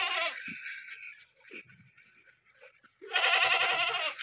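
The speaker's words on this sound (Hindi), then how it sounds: "बकरी होर भी तैयार हुई खड़ी है" Goats bleat loudly and close at a farm, one wavering call at the start and another at the end, with quieter animal noises and faint rustling in the gap between and no talking.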